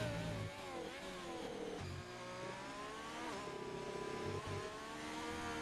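A race car in a racing video game accelerates hard down the straight, its engine revving up through several gear changes in rising, stepped pulls, loud and steady with no voices.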